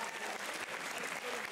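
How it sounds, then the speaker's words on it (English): Audience applause at a school music showcase presentation, steady dense clapping from a crowd filling the short moment at a fairly low level, without a clear break. "Can everybody please give an applause for Cecilia?"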